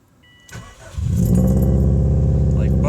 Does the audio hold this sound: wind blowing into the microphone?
no